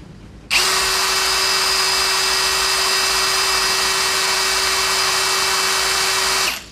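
A DCA ADJZ03-13 cordless hammer drill runs at speed 2, a steady high whine starting abruptly, holding at constant pitch for about six seconds, then stopping, loud and close.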